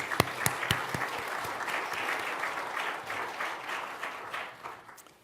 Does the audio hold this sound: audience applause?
yes